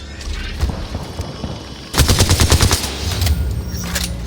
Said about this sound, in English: Whoa, they're shooting at me.